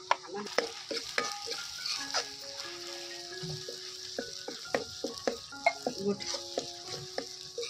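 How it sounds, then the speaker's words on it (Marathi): Oil sizzles steadily in a pan while a spoon scrapes and stirs onion and gravy on a wood-fired stove, with repeated sharp clinks against the metal. "ती ग्रेव्ही घालायची याच्यामध्ये आणि तेल सुटेपर्यंत परतायची."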